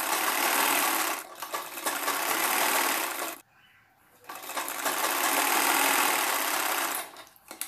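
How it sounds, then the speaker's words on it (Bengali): A sewing machine stitches a bra-cut blouse in steady rapid runs, pausing briefly for a moment before starting up again, close and clear. "পুরোটা সেলাই করে নিলাম।"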